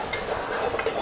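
Seasoned rice for nasi goreng pattaya being stirred and tossed in a hot pan, a continuous close sizzle with scraping spoon strokes, no talking.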